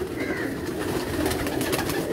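Domestic pigeons from a long-kept breeding flock coo in a low, steady murmur, several birds overlapping in a continuous close chorus with no talk.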